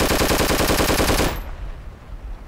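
Rapid automatic gunfire in the video game Project Reality, a fast even burst of close, loud shots lasting over a second, then cutting off to quiet ambience.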